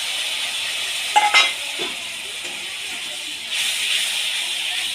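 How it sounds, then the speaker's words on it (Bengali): Spiced chicken stir-fries in a little water with a steady, faint hiss that swells near the end, broken by a few light spoon clinks against the pan. "অল্প পরিমাণে জল দিয়ে কষিয়ে নেবো"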